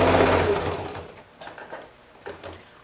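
Sewing machine stitching through a pinned quilt, a loud whirring run at the start that fades, followed by a few short, quieter bursts as the stitching stops and starts.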